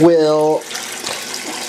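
Water runs steadily into an aquaponics grow bed with a continuous close splashing hiss, following a brief spoken word at the start.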